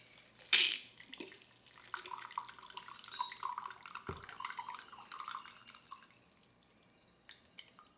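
Pineapple pulp is pressed down by hand to squeeze out juice, giving faint, close wet squelching and trickling liquid after a sharp initial knock, quiet throughout.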